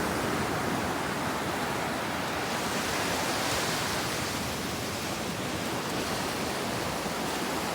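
Sea waves wash continuously at Bucana Beach in Batangas, a dense, steady hiss of surf with no distinct breaks or pauses.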